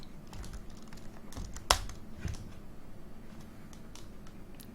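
Steady keyboard typing, a run of soft clicky keystrokes with one sharper tap, close and moderately quiet.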